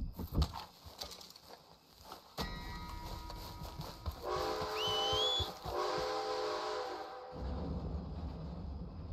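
Train rolling past in the Red Dead Redemption 2 game world, a steady rumbling clatter that swells midway with a brief whistle call, then cuts back to quieter ambience near the end.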